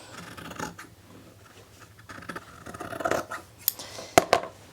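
Freshly sharpened scissors snip through fabric in a few crisp cuts that grow louder toward the end, with faint rustling between them and no speech.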